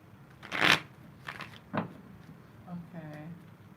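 A deck of tarot cards is shuffled by hand up close, with a bright riffling burst followed by a few softer shuffling rustles and a brief faint voice near the end.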